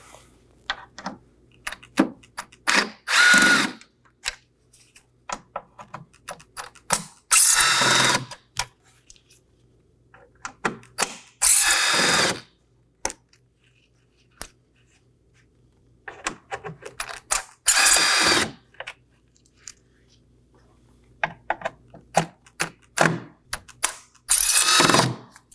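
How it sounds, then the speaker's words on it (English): A power tool driving out six T15 Torx screws from the grille of a 2018-2024 Chevrolet Equinox, short whirring bursts separated by pauses and small clicks, close and loud. "locate our 6 T15 Torx screws on our grill. We're going to go ahead and remove those now. I'll be using a T15 Torx bit."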